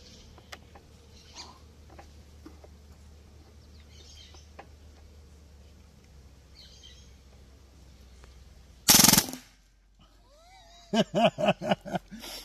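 A Hatsan Blitz PCP air rifle fires a full-auto burst outdoors: one brief, very loud, harsh crackling blast stands out from a quiet background of birds and light ambience, followed by shorter rhythmic sounds.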